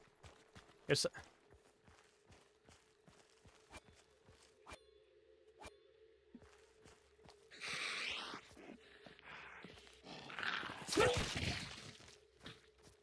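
Footsteps in Hunt: Showdown tap in a steady walking rhythm, crisp and close, with bursts of louder rustling and movement noise later and a constant low hum beneath.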